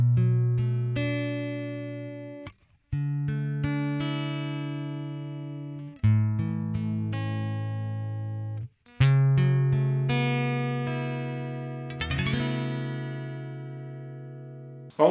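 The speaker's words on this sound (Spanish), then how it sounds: "así suena sin ningún efecto, directamente suena de esta manera" Dry acoustic guitar with no effects strums sustained chords in a slow worship style, each ringing out before the next, clear and close with no voices.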